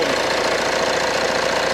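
A used car's DCI 2.0 diesel engine with two-wheel drive idles close up, producing a steady, loud, even clattering rumble with a fast regular knock and no talk.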